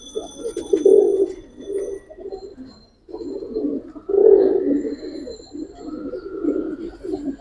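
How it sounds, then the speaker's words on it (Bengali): Giribaz pigeons coo repeatedly in soft, throaty bursts close by, with a short pause midway and faint chirps in the background. "অনেক ভালো কবুতর অনেক সিনিয়র লোকের কবুতর"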